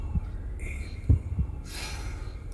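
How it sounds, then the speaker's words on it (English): One slow, deep inhale swells near the end of a calm affirmation session, following a fainter earlier breath, over soft low thumps in a quiet room without speech. "Deep breath in."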